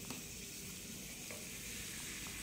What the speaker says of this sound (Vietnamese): Mẹ chiên một tí nữa.